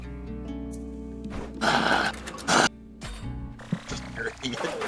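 A voice imitates heavy, exaggerated breathing in loud gasping bursts, with breathy snorts and sighs in close, uneven pulses.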